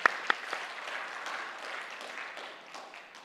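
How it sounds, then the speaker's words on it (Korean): A church congregation claps quietly, opening with a couple of sharp individual claps before a soft, scattered round of applause that tapers off toward the end. "또 한 번 하나님께 박수로 영광 올려드려도 되겠죠?"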